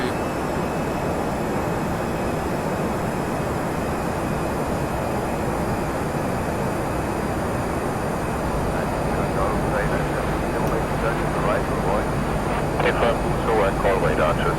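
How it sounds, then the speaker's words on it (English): A steady, loud jet engine drone builds as an airliner in a flight simulator speeds up in flight, a broad continuous roar with a faint whine, while a person talks over it. "Aircraft is speeding up"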